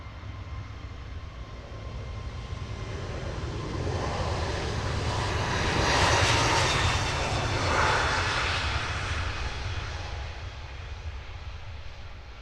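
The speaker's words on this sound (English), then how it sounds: "Sofia destination for this latest Wizz Air departure." A Wizz Air jet departing London Luton Airport bound for Sofia passes with a rising, broad engine roar that peaks mid-clip and then fades, heard from a distance without talk.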